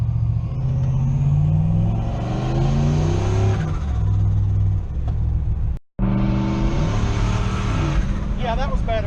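A turbocharged Chevrolet C10 truck fitted with a cheap exhaust cruising, a steady droning engine rumble with shifting revs heard from inside the cab, briefly cutting out, while occupants talk over it.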